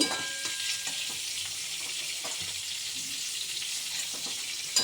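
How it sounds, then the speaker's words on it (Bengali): Pointed gourd (potol) frying in oil in a pan for a Bengali-style home recipe, giving a steady close sizzle with light scraping stirs and no talk. "পটলটা খুব সুন্দর মতো ভাজা হয়ে গিয়েছে"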